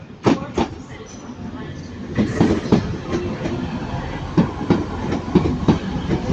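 TransPennine Express train at Manchester Piccadilly station, with a busy rumble and repeated rail clicks and clunks as carriages roll past, moderately loud, and faint voices in the background.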